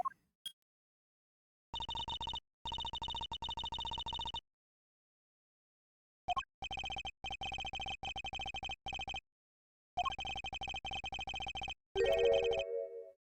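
Electronic flip phone ringtone from the Ace Attorney Investigations 2 video game: a repeating synthetic melodic ring in bursts, with short pauses between them, loud and clear, no voices, ending on a brief different chime.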